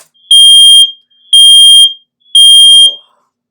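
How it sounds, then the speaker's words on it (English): A fire alarm sounds three loud, evenly spaced high-pitched beeps, each about half a second long with short silent gaps, close and alone. "Oh, we had a fire alarm there."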